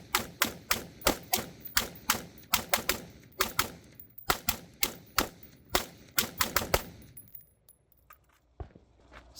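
Rapid series of sharp, loud gunshot-like cracks with reverberant tails from a CZ firearm fitted with a 4-port muzzle brake, fired without a blast shield, about twenty evenly spaced reports followed by a quieter tail with scattered thumps.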